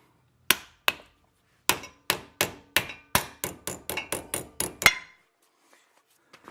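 A dust boot being tapped into place on the front wheel hub of a Chevrolet Tahoe/GMC Yukon: about fifteen sharp, close metallic knocks, first spaced out, then in a quick steady run, with no talk.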